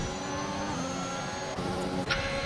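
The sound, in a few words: race car engine downshifting in a racing video game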